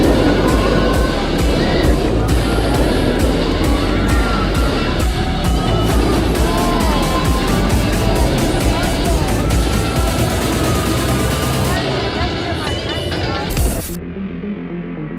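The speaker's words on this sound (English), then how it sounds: "you're guaranteed to race and you get to ride the coaster 2 times in a row" Racing roller coaster ride at Six Flags Magic Mountain, a loud sustained roar of wheels on track and rushing wind, steady for most of the run before cutting off near the end.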